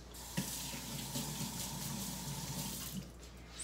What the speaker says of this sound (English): Let me just wash my hands real quick.